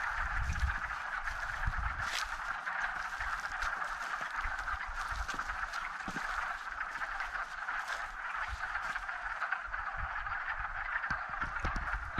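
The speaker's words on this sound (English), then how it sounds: "you can actually see ripples in the water. The frogs are making" A chorus of frogs croaking in a forest pond in Pinchot State Forest: steady, overlapping calls that keep going for about twelve seconds at moderate loudness, with no voices.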